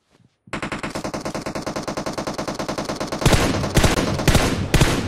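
Automatic gunfire in the mobile battle-royale game PUBG Mobile rattles in one long, rapid, loud burst, then heavier, louder shots break in near the end.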